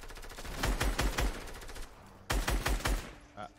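Automatic weapon fire in Fortnite Battle Royale comes as two quick bursts of rapid, punchy shots separated by a short gap, moderately loud behind faint game ambience.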